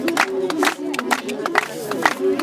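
An audience at a celebration claps and cheers in lively bursts, with hand claps and shouts rising and falling close by as voices talk among the crowd.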